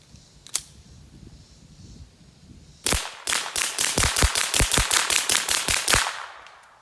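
Shots from a PSA Dagger pistol: one early crack, then a rapid string of about fifteen sharp, loud reports fired in quick succession outdoors.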